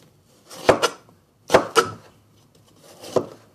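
A knife chops through ginger on a cutting board, squaring off the root: a few crisp, separate cuts, each a sharp knock with a short follow-up, close and clear in a quiet room.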